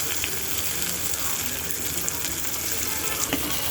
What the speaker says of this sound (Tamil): தக்காளியை ஆட் பண்ணிக்கலாம்.